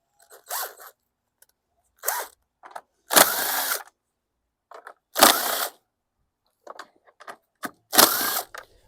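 Ratchet wrench backing out 10 mm bolts from the recoil starter of a 2018 Remington RM410 AWD self-propelled lawn mower, heard as several separate bursts of quick clicking with short pauses between them, close by and without talk.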